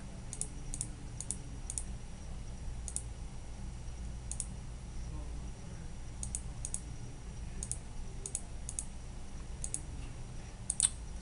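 A computer mouse clicks on screen buttons in sharp, quiet single clicks and quick pairs, spaced irregularly over a faint steady room hum with no talk.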